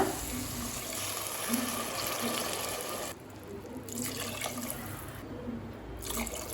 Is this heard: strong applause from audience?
no